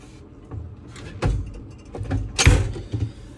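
Drawers in a Hymer B584 motorhome being opened and closed, several sliding thumps and clunks spread over a few seconds, the loudest knock coming near the end.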